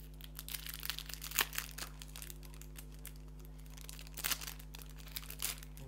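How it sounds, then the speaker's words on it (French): Bubble wrap packaging being unwrapped from around a magnet, giving soft, irregular crinkling and rustling close up over a steady low hum, with a couple of sharper crackles. "emballé dans du papier bulle"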